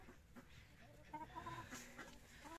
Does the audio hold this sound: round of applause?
no